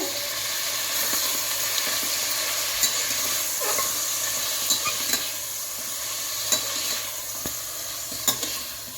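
Mutton with ginger-garlic paste sizzles steadily in ghee, and a spoon clinks against the pan now and then as it stirs. The sound is close, with no voices.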